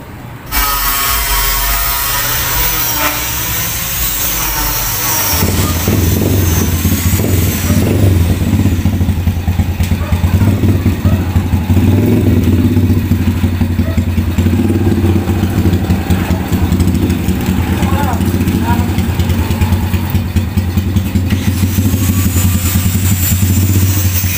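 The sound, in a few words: motorcycle engine powering improvised winch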